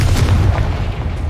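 A Confringo spell explosion in the Hogwarts Legacy video game lands as a loud, deep boom with a dense low rumble, followed by a crackling burst of debris that fades quickly.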